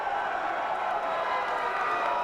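Wrestling fans cheer throughout a death-match arena show, a steady, dense roar of crowd noise with no break, heard at a distance.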